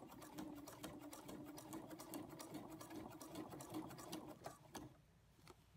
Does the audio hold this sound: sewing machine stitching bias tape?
yes